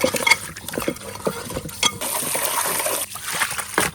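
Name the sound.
washing cut Sarputi fish in water with salt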